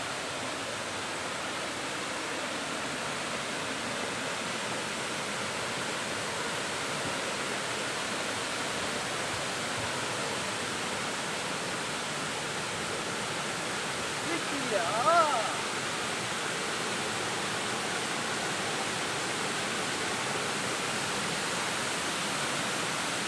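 Panchalinga waterfall in the Thirumoorthy hills roars with a steady, dense rush of falling water, continuous and fairly close, with no voices rising above it.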